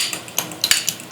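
A utensil stirs homemade Big Mac sauce with a splash of pickle brine in a bowl, making quick, close scraping clinks in an uneven rhythm.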